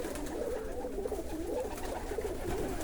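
Pigeons coo in a steady, overlapping rhythm close by, soft repeated throaty calls over a constant outdoor background hiss, with no talking.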